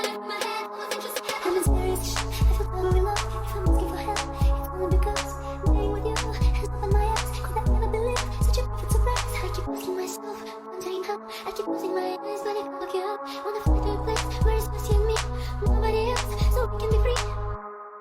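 Full EDM remix made in FL Studio, with heavy pulsing bass, punchy drums, synth pads and a vocal line layered together, loud and continuous with a brief bass dropout midway.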